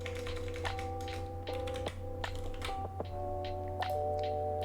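Computer keyboard typing in an Unreal Engine 5 session, a run of quick close key taps in uneven bursts over a steady low background hum, with no speech.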